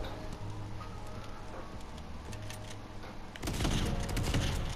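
A fully automatic gun firing in Fortnite, a rapid rattling burst of shots that grows louder and denser in the final second.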